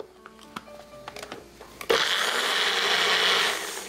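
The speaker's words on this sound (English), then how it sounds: "We're going to make a smooth paste." Blender grinding green chili, ginger, garlic and onion into a smooth paste, starting abruptly after a few light clicks and knocks, then running loud and steady as a continuous whirring roar until the end.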